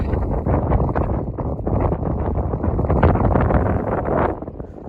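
Strong wind roars and buffets the microphone steadily at the end of a peninsula in Montana's Beaten Path backcountry, a dense low rumble with gusty surges and no voices.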